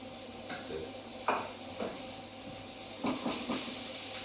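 Lamb koftas frying in a pan, giving a quiet steady sizzle and hiss with a few brief scrapes and taps from a utensil, heard up close with no talking.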